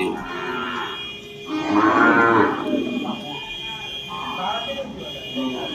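Cattle bought for the Qurbani sacrifice moo in long, loud, drawn-out calls, with a steady electronic tone and people talking around them.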